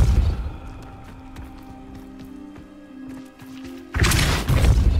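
Depulso force spell cast in Hogwarts Legacy, a loud sudden whooshing burst near the end after a quieter stretch of ambient game sound and faint tones.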